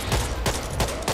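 A minigun in the zombie shooter Back 4 Blood fires in rapid bursts, a fast chattering roar with three or four loud pulses inside about a second, close and dense.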